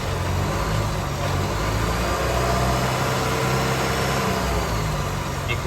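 A car engine is revved, a steady loud motor roar with some rising revs over a broad constant noise, with no voices.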